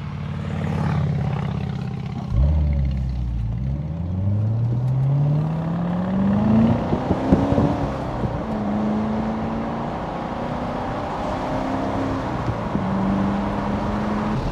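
A C7 Corvette sports car with exhaust valves open revs up loudly, its exhaust note climbing in pitch through the gears, then holding a steady drone with occasional pops.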